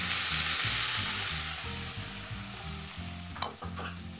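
Chopped whole tomato hits hot olive oil with toasted spices, giving a loud, steady sizzle that fades slightly, then a brief sharp spatter near the end over a low rhythmic background.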